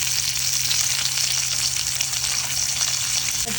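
Garlic, onion and green chillies frying in a pan give a loud, dense, continuous sizzle, close and unbroken, over a faint low hum, with no voices.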